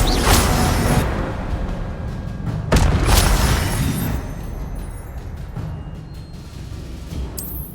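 Casting the Incendio fire spell in Hogwarts Legacy sets off heavy booming bursts with whooshing flame, two strong blasts followed by a lingering rumble that slowly fades, loud and close.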